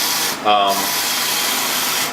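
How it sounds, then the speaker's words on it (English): A Roland SC500 eco solvent printer cutter runs close by with a steady, dense mechanical whir, interrupted briefly by a higher tonal whine. "when it gets to the end of the printing phase, it'll come back with just the cutting head and do a"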